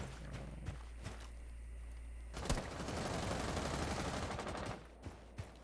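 Sharp shots cut through a quiet scene, then a sustained loud roar of rapid gunfire follows from a heavy-recoil gun in the Rainbow Six Siege video game, tapering into a few isolated cracks.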